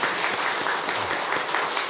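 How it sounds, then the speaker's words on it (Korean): A church congregation at a Sunday service breaks into warm, continuous applause, a dense even roar of many hands. "한번 박수 한번 할까요?"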